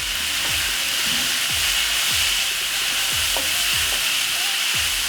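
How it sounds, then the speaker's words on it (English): Loud, steady sizzle of seitan pieces frying in a pan just after water is splashed in, a dense hiss with occasional clicks of stirring throughout. "Prepare yourself for a very loud sizzle."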